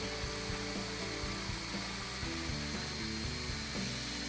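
A power drill with a larger bit bores through a broken exhaust stud in an engine head, following a pilot hole; a steady, close, continuous whirring grind with no talk.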